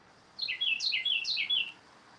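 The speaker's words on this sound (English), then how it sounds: "that bird that's singing in the background" Outdoors, a songbird gives a short run of bright, rapid chirps, about eight quick notes in a little more than a second, fairly clear over quiet background hiss.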